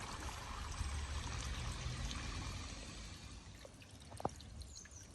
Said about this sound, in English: I've added this little soda fountain, which is very cute. It's just helping to move the water